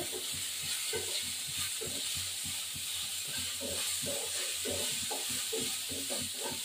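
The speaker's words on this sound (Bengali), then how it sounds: "কপিটা ভাজা হয়ে গেছে" Cauliflower pieces frying in a pan make a faint, steady sizzle, with soft rhythmic thumps and bubbling pulses running beneath it.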